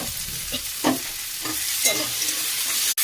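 Jackfruit curry base with chopped tomato and a pinch of salt frying in a pan while being stirred: a steady close sizzle broken by several soft scraping stirs, with no talking.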